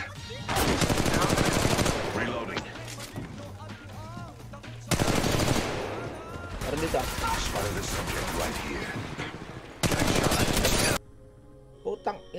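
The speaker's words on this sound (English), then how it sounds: "Opening fire." Gunfire in Apex Legends Mobile comes in several loud rapid automatic bursts separated by quieter stretches of game sound and talk, ending in a few sparse shots.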